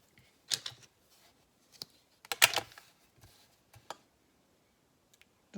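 A utility knife cuts material in a few short, sharp, scraping strokes, close and fairly quiet, separated by pauses.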